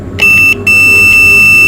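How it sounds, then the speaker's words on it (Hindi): A buzzer on a DC breaker sounds as the breaker is switched on, a loud, steady high-pitched electronic tone that starts abruptly, cuts out briefly for a moment, then resumes and holds, heard close and alone. "अब इसमें से बजर की आवाज़ लाजमी तौर पे आनी चाहिए।"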